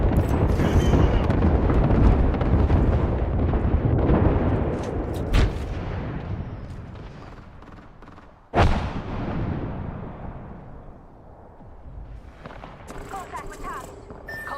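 Video game gunfire and explosions: heavy booming blasts and bursts of shots, loud at first and then fading, with a sharp close report midway and voices talking over the action.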